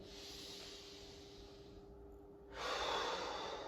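Slow, deep breaths in and out paced through a beginner hamstring stretching routine, a long soft airy exhale followed by a louder, brighter inhale, close to the microphone with no talking.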